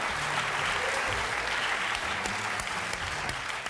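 A television game show studio audience claps in a sustained, dense burst of applause, loud and steady throughout with no voices on top.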